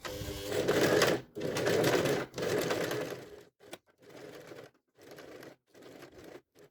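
Sewing machine running in long stitching bursts along a fabric belt, loud and close, then shorter intermittent runs with brief pauses between them, with no talking.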